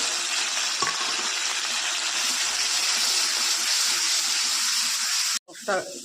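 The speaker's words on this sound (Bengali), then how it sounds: "মশলাটা কষানো হয়ে গেছে" Spices sautéed with browned onion in a pan for an Indian chicken curry, a continuous loud close sizzle and hiss that cuts out briefly near the end, then a few stirring scrapes.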